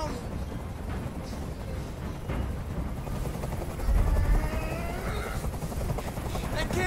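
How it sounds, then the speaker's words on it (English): In the video game Detroit: Become Human, a helicopter's steady rotor drone and rumble fills the scene at moderate distance, with a character talking over it and a deeper low thump swelling briefly midway. "I can't stand that noise anymore. Tell that helicopter to get out of here."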